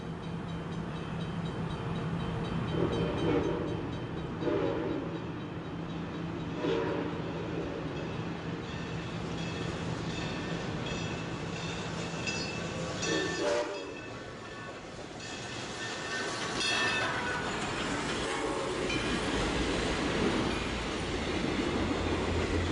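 A train rumbles past through a sugar refinery with steady clanking and wheel noise, punctuated by several loud horn blasts and a sustained hum, fairly close and continuous.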